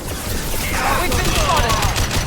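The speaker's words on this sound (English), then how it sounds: "Taking heavy fire." Gunfire in Mass Effect 2 during a firefight at a facility, dense overlapping shots under in-game voices for about two seconds, fairly loud and continuous.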